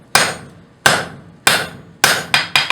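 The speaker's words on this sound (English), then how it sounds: "This is using a 3-pound hammer. All we're looking to do is flatten that out just like so." A 3-pound hammer pounds a hot railroad bolt at welding heat while it is forged into a small anvil: six sharp, ringing metal strikes, close and loud, spaced about half a second apart, with the last three coming quicker.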